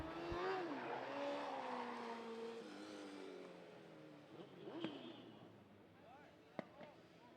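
1200 mini sprint race cars on a dirt racetrack, their high engine whine rising and falling as they run laps at a distance, fairly faint, with a few sharp clicks near the end.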